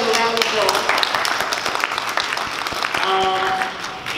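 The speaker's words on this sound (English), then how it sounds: "Give yourselves a round of applause." A convention panel audience at Awesome Con claps in a sustained round of applause, dense clattering hand claps filling the room, with voices mixed in beneath the clapping.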